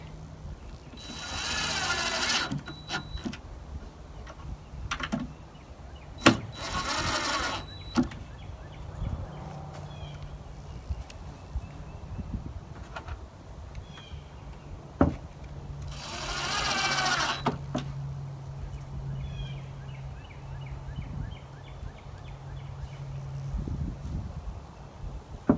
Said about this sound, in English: I'm going to go ahead and put the rest of these screws in